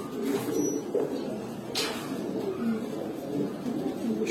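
Giribaz pigeons coo softly in a series of low, rolling calls, faint and fairly close, with a brief sharper noise partway through.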